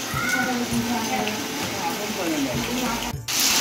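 Heavy first monsoon rain pouring down in the Konkan, a steady dense wash of water with runoff dripping from the roof edges, loud and continuous, with a brief dropout near the end; a cat meows faintly and a voice speaks over it.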